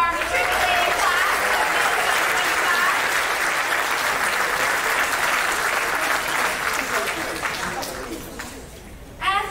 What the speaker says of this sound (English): One more round of applause for our matriculating class